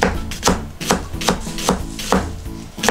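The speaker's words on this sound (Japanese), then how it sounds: "玉ねぎね、切ってくださいね" A kitchen knife slices through an onion on a board in steady, evenly spaced crisp cuts, about two or three per second, close and clear with no talking.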